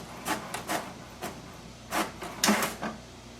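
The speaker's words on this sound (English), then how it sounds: "So this will do the level 1 cleaning again." An HP DeskJet 2910 printer runs a printhead cleaning cycle and prints a diagnostic page, with short rasping, scraping carriage movements in uneven bursts close by and no talk.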